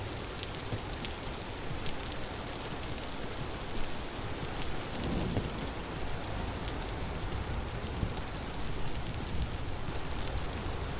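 Rain falls steadily in the video game Vintage Story, a soft, continuous patter of drops with faint crackles, even and fairly quiet throughout.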